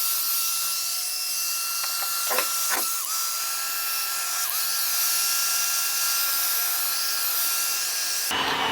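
A heat gun blowing hot air onto paint on a car fender, a steady whining hiss with a constant tone, close and continuous, with a couple of brief knocks early on and an abrupt change at the very end.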